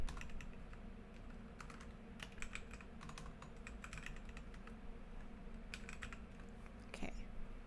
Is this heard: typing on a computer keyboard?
yes